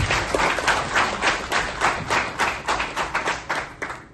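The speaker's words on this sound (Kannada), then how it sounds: "ಅದಕ್ಕೊಂದು ಚಪ್ಪಾಳೆ ಕೊಟ್ಟಿದ್ದೇನೆ." A single person claps in a steady rhythm of about a dozen sharp, close hand claps, fairly loud and evenly spaced with no voices over them.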